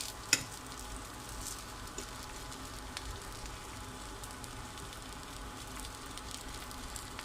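Eggplant slices frying in a small amount of oil in a pan, a steady soft sizzle running throughout with a few faint clicks from stirring.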